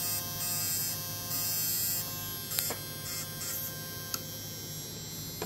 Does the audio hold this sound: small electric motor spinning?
yes